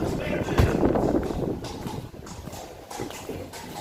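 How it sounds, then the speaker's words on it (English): Horse hooves clip-clop on a street in Bruges amid busy outdoor crowd noise, the steady clopping fairly close at first and then fading, with people talking throughout. "Hear the horse."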